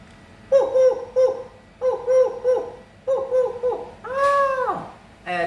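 Three repeated, evenly rhythmed cooing phrases of a collared dove come from a man imitating the bird vocally, close and clear, ending with a louder, rising-and-falling wail.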